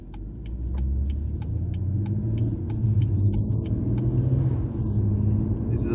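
A BMW M140i driving slowly through a village, steady close engine rumble and road noise from inside the car with faint ticking, no speech.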